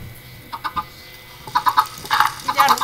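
A chicken-clucking ringtone plays in short repeated cluck bursts, sparse at first and then faster and louder, over faint background hiss.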